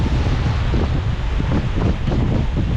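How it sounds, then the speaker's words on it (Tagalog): Strong typhoon wind roars steadily, buffeting the microphone with a constant low rumble throughout, and no voices are heard. "lakas na po ng hangin"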